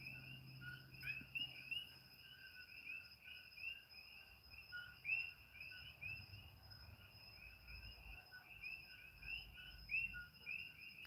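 Coqui frogs call at night on Hawaii's Big Island, a steady chorus of high, repeated chirping notes carrying on without pause, with a faint low rumble underneath and no talking.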